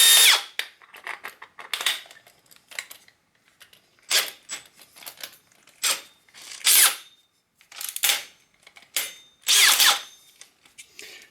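A power drill with a Bosch hole saw whirs in repeated short bursts, starting and stopping about ten times, loud and close with brief pauses between.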